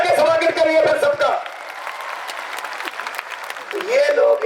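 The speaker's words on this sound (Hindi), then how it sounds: "तालियां बजा के स्वागत करिए फिर सबका।" A crowd at a political rally bursts into applause, a dense wash of clapping that swells between stretches of someone speaking loudly over a microphone before and after.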